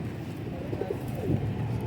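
Pigeons coo in low, throaty warbles, repeating several times close by over a steady murmur of background noise, with no talking.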